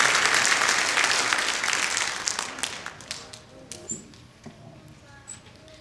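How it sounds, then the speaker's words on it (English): A crowd at an MLK Day ceremony applauds loudly, then the clapping thins out into a few scattered, fading claps. "Let's give them one more round of applause as they have their picture taken."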